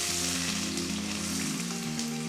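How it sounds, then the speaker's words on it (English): Chopped onion frying in hot oil gives a steady, close crackling sizzle under a low hum, with no talking. "The oil is hot now, so I have to fry the onion"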